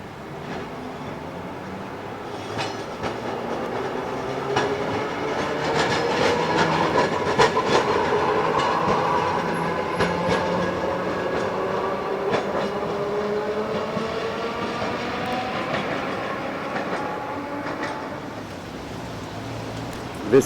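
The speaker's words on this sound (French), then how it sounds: "Le matin, encore le tramway qui se promène dans la ville déglinguée." A city tram in Toyama, Japan rolls steadily past for about twenty seconds, with a continuous rumble, clicking wheels and a rising and falling metallic whine, and no voices.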